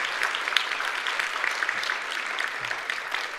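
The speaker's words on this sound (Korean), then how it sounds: "큰 박수로 축하하겠습니다." A church congregation claps in celebration during a Korean Presbyterian service, giving steady, moderately loud applause for about three seconds.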